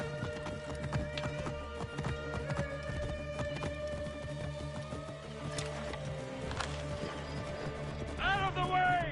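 Horse hooves clip-clop steadily through an Assassin's Creed style video game scene, mixed with music and game effects, while voices talk over the action.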